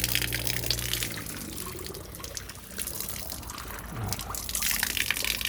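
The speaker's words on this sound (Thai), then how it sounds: "ส่วนน้ำที่ออกจากเครื่องกรองนะครับ ที่ผมให้ดูเมื่อกี้นะครับ ผ่านระบบเครื่องกรอง UF นะครับ" Water running out of a UF water filter system, a steady close gush and splash that shifts slightly in tone as it flows, with no talk.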